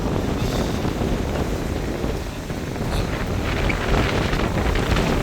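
Sea water surging and crashing against a jetty at Point Pedro during a cyclone storm, a continuous loud roar of waves mixed with heavy wind buffeting the microphone throughout.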